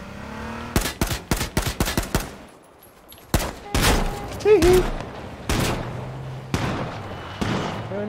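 Shotgun blasts and other gunfire in H1Z1 on PS4: a quick burst of sharp, close shots, a short lull, then more loud reports spaced out over the rest of the stretch.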